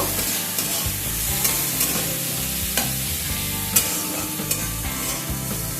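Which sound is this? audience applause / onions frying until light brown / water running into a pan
onions frying until light brown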